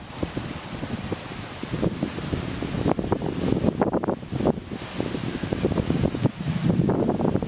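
Strong, gusty wind blows across an exposed hillside high school field by the visitor bleachers, a steady roaring rumble with rising and falling buffets and microphone wind noise throughout.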